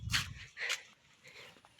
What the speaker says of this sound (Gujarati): આ ગલુડિયા